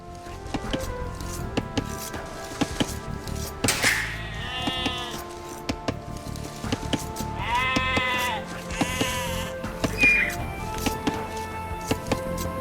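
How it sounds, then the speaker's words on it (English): Sheep bleat repeatedly in Age of Empires II Definitive Edition, several wavering cries over a busy game soundscape of clicks, chopping and ticking effects, with a narrator speaking throughout. "villagers can herd sheep or hunt deer for food"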